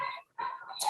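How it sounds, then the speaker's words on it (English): A dog barks and yips in two or three quick, close, high-pitched bursts with a brief gap between them, clear and fairly loud over a quiet indoor background. "Sorry, my dog's barking."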